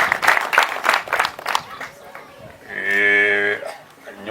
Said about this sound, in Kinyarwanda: babaha amashyi menshi cyane n'impundu